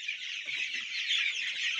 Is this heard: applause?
no